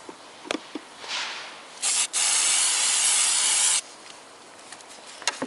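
Close aerosol silicone spray hissing in two bursts onto a Toyota Corolla driveshaft's rubber boot, a short one then a longer steady blast of about two seconds, with faint rubbing sounds before and after.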